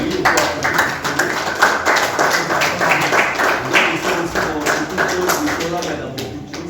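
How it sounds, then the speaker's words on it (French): Audience applause at an art performance event in Kinshasa, honouring members of an art collective: dense, lively clapping from a crowd sustained for several seconds, with voices mixed in. "Oui, on peut applaudir."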